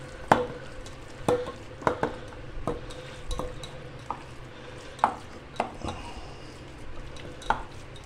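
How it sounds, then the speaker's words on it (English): Minced mutton kebab mixture being worked together by hand in a bowl, heard as soft, irregular squelches and occasional light knocks against the bowl, faint and close, with no talking. "And now I'll just thoroughly mix all this together."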